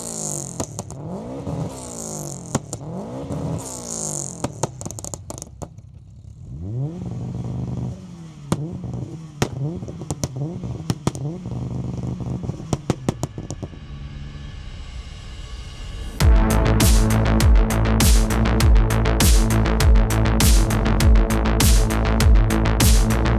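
A 727 bhp Mitsubishi Evolution 9 with a turbocharged 2.2-litre inline four revs repeatedly, sharp rises and falls with popping, then settles into a loud, sustained, raspy high-rev drone up close.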